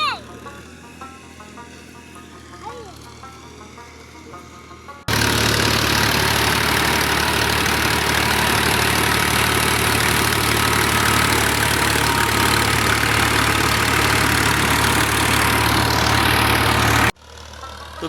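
A tractor engine idles in a village field, a loud steady rumble that cuts in abruptly and runs for about twelve seconds, with quieter background and voices before it.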